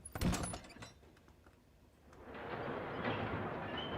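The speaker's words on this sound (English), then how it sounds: "Big doors. So this could be, yeah, quite a cool ambience for like a spooky docks or something." Big heavy doors booming and thudding in a spooky dockside game ambience, a loud slam at the start followed by lower creaks, then a steady rumbling wash of background ambience.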